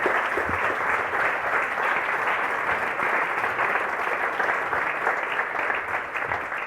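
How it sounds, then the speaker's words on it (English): The audience at a JavaScript conference talk gives sustained applause, a steady, even wash of many hands clapping from a seated crowd that holds at a constant level throughout, with no speech over it. "Shall we have a round of applause then?"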